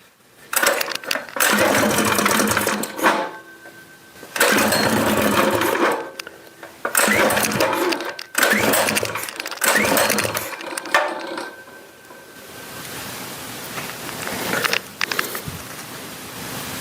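Small gasoline engine with a carburetor fed by a gas tank at carburetor-inlet level, running in loud revving bursts separated by short dips, then settling into a lower steady idle, close up with no talk.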